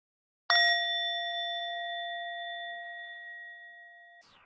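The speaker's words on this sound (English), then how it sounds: "I will use this bell, this mindfulness bell, from time to time." A single strike of a mindfulness bell during a guided meditation gives a clear, pure ring that sustains and slowly fades over several seconds in a quiet room.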